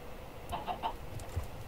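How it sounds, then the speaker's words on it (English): A chicken gives a quick run of three soft clucks, then a couple of fainter scattered calls, fairly quiet against low background noise. "Damn chicken."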